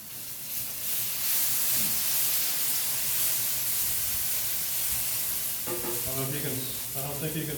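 Soy chorizo sizzles steadily in a cast iron skillet, a loud, continuous frying hiss with occasional stirring scrapes, and a voice briefly speaks near the end.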